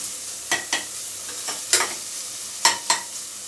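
Onions half-fried in a pan for vegetable fried rice, a soft sizzle under repeated sharp scrapes and knocks of a spatula stirring, about six strokes spread unevenly.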